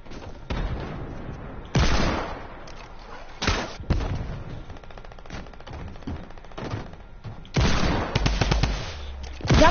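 Bursts of hand cannon gunfire from a PS4 shooter game, several loud separate shots and short volleys spaced irregularly, with quieter game noise between them and no clear talking.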